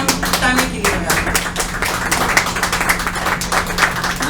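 An audience claps at a novel presentation in a café, a brisk, close burst of clapping that keeps up throughout, with a voice briefly audible underneath.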